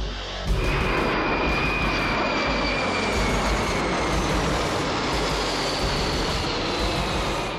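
An Ilyushin Il-80 'Flying Kremlin' Russian airborne command plane runs its engines. A loud, steady jet roar kicks in suddenly and holds with a thin whine on top.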